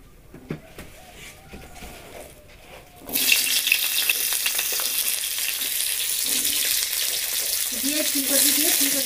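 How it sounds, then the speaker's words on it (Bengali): Cauliflower dropped into hot oil in a wok bursts into loud, steady frying and sizzling that continues evenly after a quiet start with a few small clicks. "এবার আমি ফুলকপি তরকারি করার জন্য ফুলকপিটা ভেজে নেব।"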